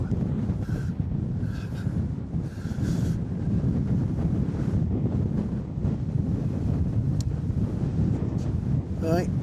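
Strong wind gusts over a microphone beside the River Ancholme at Bishopbridge, a steady, loud buffeting rumble that fills the whole stretch with only brief lulls.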